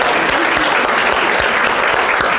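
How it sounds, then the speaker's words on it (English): Dense, steady clapping from an audience at a motivational speaking event, loud and continuous throughout with no pauses, filling the room. "Give her a round of applause, guys"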